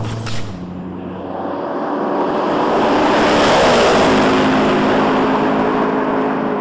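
McLaren XP beta prototype sports car on the Idiada test track, its engine swelling from a distant hum to a loud, close roar as it approaches and sweeps past, then fading slightly as it pulls away.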